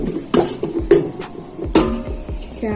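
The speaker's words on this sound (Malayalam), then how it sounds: "ക്യാബേജ് ചെറുതായിട്ട് അരിഞ്ഞിട്ട് വഴറ്റിയെടുക്കാം." Finely chopped cabbage stir-fried in a pan for fried rice, with sharp metal clanks and scrapes of a spatula against the pan over a low sizzle, close and fairly loud.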